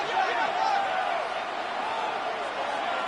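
Football stadium crowd roaring on a third-down play, a broad, steady wash of distant cheering and noise that holds at an even level throughout, with no clear talk over it.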